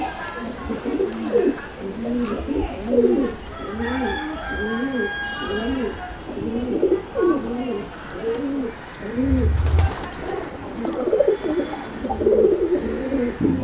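Domestic pigeons coo repeatedly in soft, rolling, rhythmic phrases close by in a pigeon loft, while a person talks intermittently over them.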